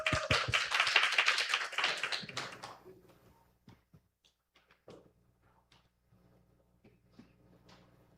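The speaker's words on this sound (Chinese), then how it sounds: "同学们拍手来欢迎小强" A congregation at a youth worship service claps to welcome a guest speaker, a burst of dense, loud applause lasting about three seconds before fading into scattered taps and near silence.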